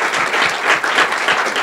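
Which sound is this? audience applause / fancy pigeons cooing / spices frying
audience applause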